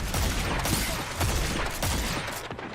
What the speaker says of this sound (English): maybe one of those shots was a precision shot